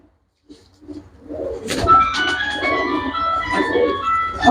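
After a quiet start, several pigeons coo and warble nearby, building into a continuous overlapping murmur.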